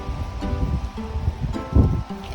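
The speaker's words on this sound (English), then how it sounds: "I don't know whether you can hear me, it's a bit windy." Steady low rumbling wind buffeting a microphone, with gusty swells and a louder thump near the end; no one speaks.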